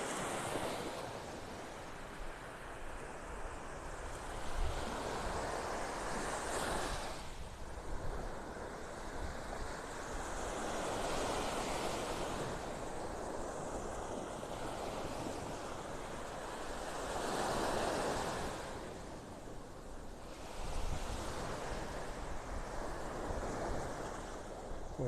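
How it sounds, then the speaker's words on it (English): Ocean waves wash in on a beach in North Naples, Florida, swelling and receding in slow surges every few seconds under steady wind noise against the microphone. "Water lapping up onto my toes."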